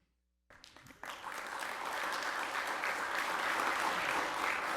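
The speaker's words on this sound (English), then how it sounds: "if everyone just hold the applause" Applause breaks out at a county press conference with the governor, beginning with a few scattered claps and swelling into steady, moderately distant clapping from a crowd that continues throughout.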